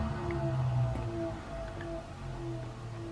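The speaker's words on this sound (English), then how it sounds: "Heater. And the heater does work. Can you hear that?" A car heater running inside a Riley RMF gives a steady low hum and blowing drone with faint tonal whines throughout, close and unbroken, with no talking.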